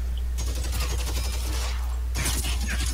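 Video game gunfire crackles in two loud bursts of rapid shots, the first running for almost two seconds and the second starting after a short lull, close and harsh with no speech.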